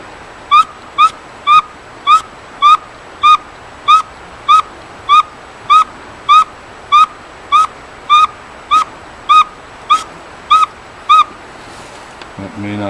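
Person whistling an imitation of a northern saw-whet owl call at a nature park: a long series of evenly spaced single toot notes, loud and close, about two per second, ending with a brief rustle.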